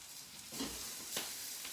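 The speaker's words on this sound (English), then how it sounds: "Let's give that a stir." Orange tofu stir-fry with Brussels sprouts sizzling in a pan, a quiet continuous hiss with two soft scraping stirs, close but faint.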